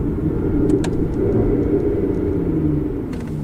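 Aston Martin Vanquish engine dropping rapidly from fourth to first gear, heard as a steady loud low rumble from inside the car with a few brief clicks and no break in the drone.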